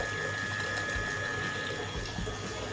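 Water trickles steadily into a household tank that won't fill, a constant close hiss with a faint pump-like hum and no voices.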